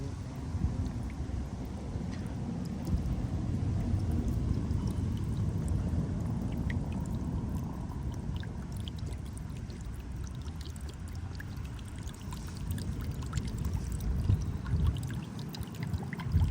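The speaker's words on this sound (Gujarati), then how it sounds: "અચાનક વરસાદ આવી ગયો" Sudden heavy rain pours steadily outdoors, a dense, continuous rushing wash with broadband hiss, loud and unbroken throughout with no voices.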